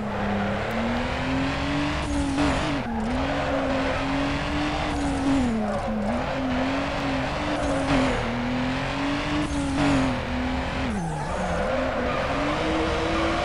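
Drifting car in the video game Need for Speed Underground: a steady engine drone with wavering pitch runs throughout, joined by repeated bursts of screeching tire squeal as the car slides through corners, loud and continuous with no talking.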